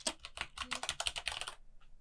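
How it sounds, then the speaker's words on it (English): Clacky computer keyboard typing, a quick close run of sharp key clicks lasting under two seconds before stopping, with no talking over it. "sorry for my clacky keyboard. I'm sure you can probably hear that on the mic"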